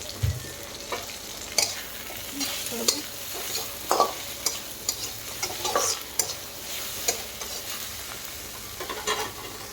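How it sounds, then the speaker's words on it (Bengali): Tomatoes frying in a pan with a steady sizzle, stirred throughout with repeated scraping and clanking strokes of a utensil against the pan, close and continuous with no voices. "টমেটো দিচ্ছি।"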